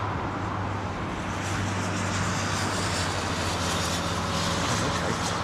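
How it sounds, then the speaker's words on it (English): An ATR turboprop airliner on approach to London Heathrow gives a steady, broad engine roar at moderate distance, mixed with blustery wind noise and no clear voices. "Nice little ATR on approach."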